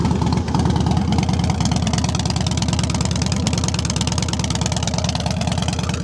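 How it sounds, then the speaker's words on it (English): A 2006 Harley-Davidson Fat Boy FLSTF with a balanced Twin Cam 88 V-twin idles steadily up close, a loud, even low-pitched lope running unbroken and without speech. "That's got the balanced motor in it, the balanced twin cam 88."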